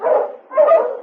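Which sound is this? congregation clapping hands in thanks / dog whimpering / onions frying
dog whimpering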